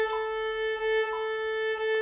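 A violin plays a steady sustained tone with subtle repeated note onsets in a dotted eighth-sixteenth rhythm, clear and alone.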